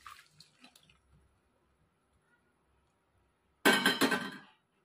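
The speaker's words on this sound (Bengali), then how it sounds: "এখন আলুটা আমি ঝুড়িতে ছেঁকে নেব" Parboiled potatoes and their boiling water are tipped into a strainer basket in one short, splashy gush after near silence, with a few faint clinks before it.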